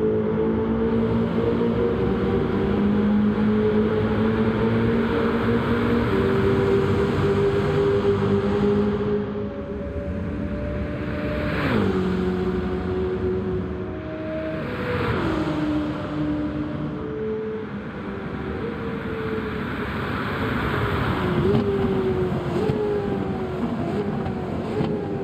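A modified Lexus LC500 engine in Gran Turismo 7 revs loudly and steadily, its harmonic tone rising and dropping through several gear-like shifts across the clip, with no talking over it.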